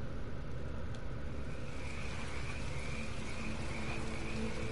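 Loud crickets in the video game Dishonored 2 chirp as a steady, dense night chorus with a thin high drone, continuous throughout with no talking.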